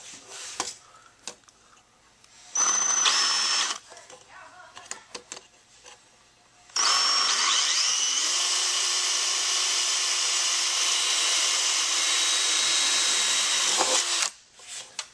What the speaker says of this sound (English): Just gonna put it in, then we're gonna drill.